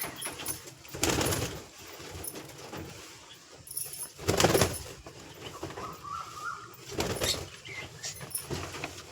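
Flock of pigeons in a home loft, with soft bird calls and cooing scattered through a low, rustling background, marked by several louder bursts of fluttering movement and clatter.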